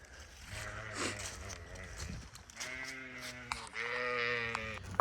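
Sheep bleat several times in a winter field, with wavering, drawn-out calls that overlap and grow louder toward the end, heard fairly close and without talk.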